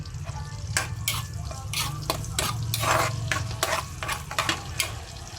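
Garlic sautéing in a pan: a continuous close sizzle broken by frequent scraping and clacking stirring strokes in an irregular rhythm, fairly loud, with no talk.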